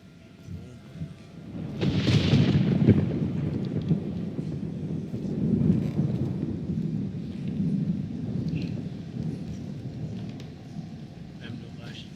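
A thunderstorm in the video game Resident Evil 9 Requiem rumbles as low, rolling thunder over steady rain, heard as a continuous deep wash with a few swelling peaks.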